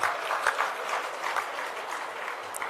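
An audience claps at a political speech in Jodhpur, producing a steady wash of hand claps at moderate volume that fades slightly toward the end.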